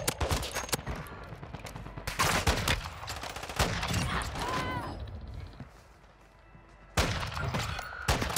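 Rapid gunfire in a video game, with dense bursts of loud sharp shots clustered early, a quieter stretch of scattered fire and a lull, then a fresh volley near the end; a voice speaks in between.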